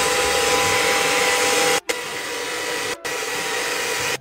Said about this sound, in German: Das Ganze muss ich jetzt eigentlich nur noch föhnen.